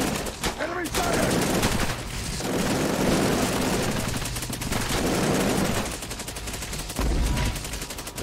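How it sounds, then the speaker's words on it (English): Rapid enemy gunfire crackles through Cepheus Protocol horde-mode combat, loud bursts and overlapping shots in sustained waves with short dips between volleys. "Enemy fire!"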